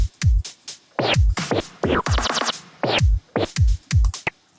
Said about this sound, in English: That sounds like a beat that I would use after dropping a bass.